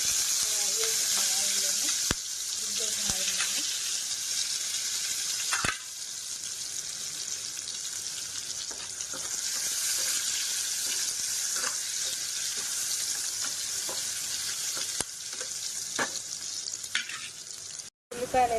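Onions, green chillies and curry leaves fry in oil in an egg curry pan, making a long, steady sizzle broken by sharp spatula taps and stirring scrapes, with a brief muffled voice early on.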